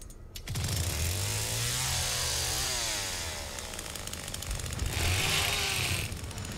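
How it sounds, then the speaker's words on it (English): A chainsaw in the Texas Chainsaw game revving and roaring loudly and continuously, with its pitch rising and falling across several surges, close up and without speech. "I assume the chainsaw, like, runs out of a charge or whatever."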